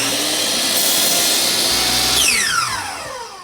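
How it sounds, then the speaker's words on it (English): A miter saw whines loudly through a cut in wooden door trim, holding a steady high roar that drops into a falling pitch as the blade spins down at the end. "I'm just going to cut it out on my miter saw"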